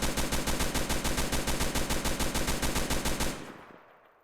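Rapid automatic gunfire from a weapon in the video game Fallen, a loud, steady burst of evenly spaced shots lasting about three seconds before cutting off into a fading echo.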